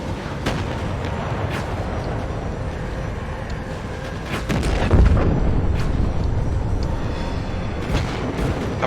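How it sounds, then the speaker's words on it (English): Heavy cannon fire booms in the Mecha Knights: Nightmare video game, a series of deep thudding blasts over a constant rumbling battle din, with one louder surge of rumble midway. "Have I mentioned I love that cannon?"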